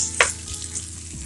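Small red onion, spring onions and chopped garlic frying in a tablespoon of oil, a soft steady sizzle with one brief louder stir or scrape near the start, no talk.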